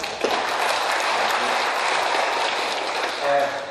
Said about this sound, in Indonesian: kami perlu menyampaikan aplaus kepada